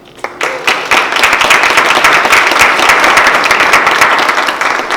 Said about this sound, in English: please just join me in giving another round of applause